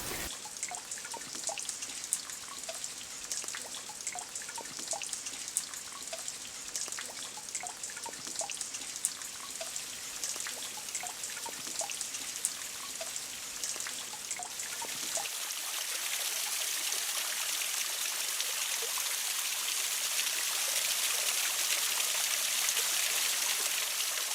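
Water from a tollo spring in La Manchuela running along a small rivulet, heard as a steady trickle with scattered drips, shifting partway through to a fuller, louder rushing flow, close and alone.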